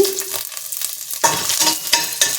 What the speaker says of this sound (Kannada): ಎಣ್ಣೆ ಕಾದಿದೆ ಇದಕ್ಕೆ ಬೆಳ್ಳುಳ್ಳಿ ಈ ಥರ ಫುಲ್ಲೇ ಹಾಕೋತಾ ಇದ್ದೀನಿ